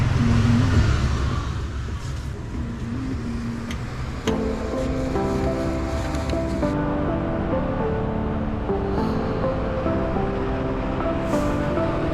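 A semi-automatic Honda Blade motorcycle engine runs steadily close by on a Ha Giang loop ride in Vietnam, with a continuous rumbling drone and a shift in pitch partway through, no voices.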